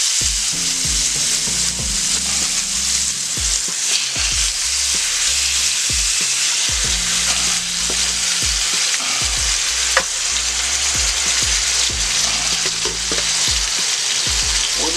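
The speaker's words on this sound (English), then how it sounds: "we're just gonna put these pork chops in and we're just gonna brown them on both sides" Pork chops browning in a cast iron skillet give a loud, constant bright sizzle, with repeated low thumps and scrapes of handling throughout.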